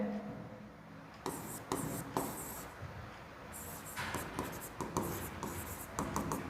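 A pen squeaks across a board during a Class 10 polynomials maths lesson in repeated short strokes and bursts, close and fairly clear, with brief pauses between them and a faint voice in the background.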